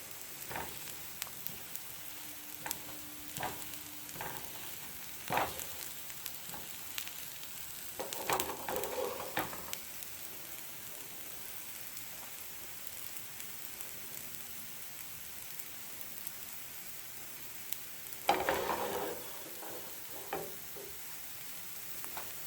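Methi dosa frying on a pan, a soft steady crackling sizzle with occasional clinks and scrapes, faint and close, continuing without talking.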